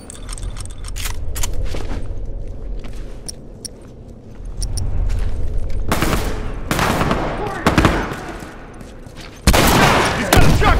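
Shotgun fire in The Last of Us during a supply raid, with loud, sharp blasts and bursts of shots punctuating tense quieter stretches, plus clattering and background rumble as combat picks up near the end.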